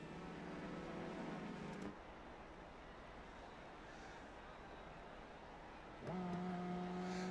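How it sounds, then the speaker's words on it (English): An open-wheel race car engine in iRacing's Indy Pro 2000 series idles, cuts out into a low background hum, then fires back up to a steady, louder buzzing tone, faint overall with no talk. "There you hear him turn the car back on."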